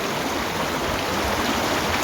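A stream flows below an old British-era dam, a steady, dense rush of water with no breaks, fairly loud and close.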